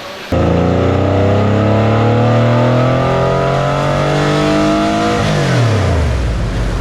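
A Porsche 964 engine on a dyno revs hard, its pitch climbing smoothly for several seconds before dropping off as the throttle closes, loud and close with no voices.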